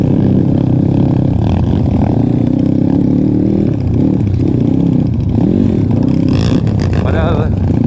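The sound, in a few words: motorcycle accelerating in second gear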